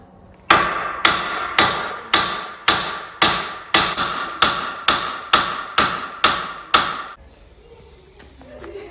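Eleven evenly spaced, sharp metal hammer blows ring out close by, striking a brake part on an MK4 Jetta to drive it loose, then stop abruptly, leaving quiet workshop background.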